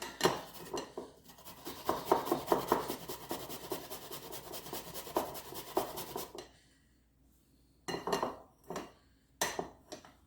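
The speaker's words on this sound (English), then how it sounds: "I usually use a cheese grater to grate the ginger up" Peeled ginger root rubbed against a metal cheese grater, a steady rasping scrape for about six seconds, followed by a quiet pause and a few short separate scraping strokes.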